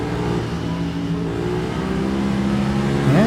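Ducati superbike engine in the RIDE 3 racing game, a loud continuous mid-pitched drone that climbs in pitch as the throttle opens near the end, with no talk.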